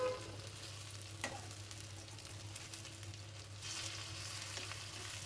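Malabar spinach (pui shak) leaves fry in a little oil, giving a soft, steady sizzle. A couple of light scrapes and clinks sound as the pieces are turned in the pan. The sound is faint and close, with no talking.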